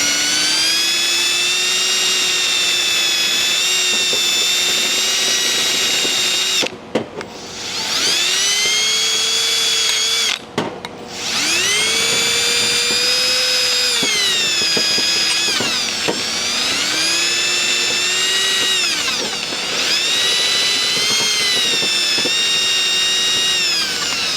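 A handheld rotary grinding wheel scours crust off an engine part from a Buick cooling system, a loud sustained whine that rises and falls in pitch as pressure varies, broken by a few short pauses.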